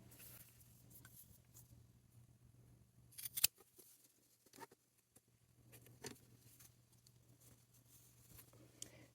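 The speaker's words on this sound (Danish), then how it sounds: "og så klipper jeg halvdelen af det her væk" Scissors snipping through fabric while sewing a sanitary pad pouch: quiet, close, irregular cuts with a few sharper snips and soft rustles of cloth between them.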